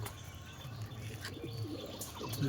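Pigeons for sale give soft, low, repeated coos close by, with faint rustles and clicks in an otherwise quiet room.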